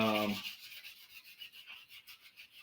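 Wood on a banjo-guitar body being smoothed with 400-grit sandpaper, a soft rhythmic back-and-forth rubbing close up, starting after a brief voice.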